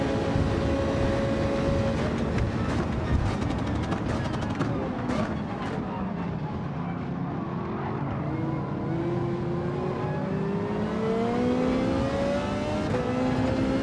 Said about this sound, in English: that McLaren's got one heck of a noise too